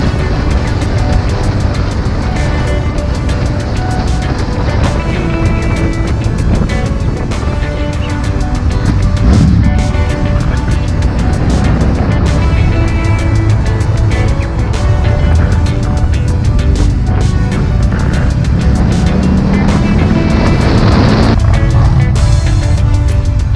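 An Indian motorcycle on a demo ride, its engine droning loud and continuous with rising and falling revs and rushing wind throughout.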